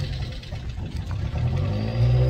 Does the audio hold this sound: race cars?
yes